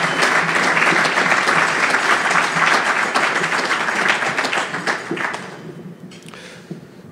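An audience applauds at a union Labour Day banquet, a dense, loud burst of many hands clapping that holds steady for several seconds before thinning and fading out.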